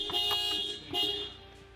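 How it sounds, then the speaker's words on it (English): A Toyota LandCruiser 200 horn sounds in two close, loud honks, each lasting roughly half a second, as the steering wheel controls are set up. "So you get a bit of honking as you do it"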